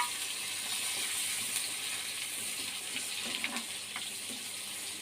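Chopped onion frying in mustard oil after garlic and chillies, a steady close hiss of sizzling with faint scattered crackles, no talk over it.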